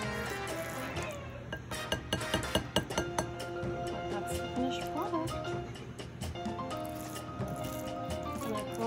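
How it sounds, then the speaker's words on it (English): Chopped cilantro being stirred into Mexican rice, with soft squishy mixing and a few scattered clinks of a utensil against the pot, heard under steady background music. "I'm just gonna mix up all the cilantro in there"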